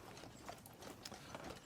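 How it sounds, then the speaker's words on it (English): A cart horse plods at a steady walk, its hooves knocking with soft, irregular clops alongside faint creaks and rattles from the harnessed cart, quiet and close. "The horse reined to the cart plods as the"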